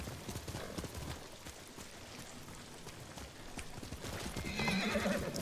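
Horse hooves clop steadily over a soft patter in the video game Ghost of Tsushima, and a horse whinnies near the end. Fairly quiet, with no one talking.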